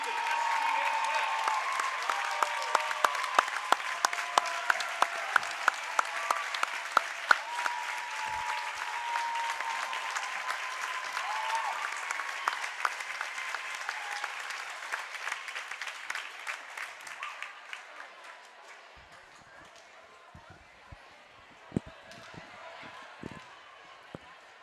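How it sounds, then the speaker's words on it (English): A crowd in a high school gym at a volleyball game gives a standing ovation to former state championship players, steady applause with sharp individual claps that gradually thins and fades toward the end. "How about a nice round of applause for our guests this evening"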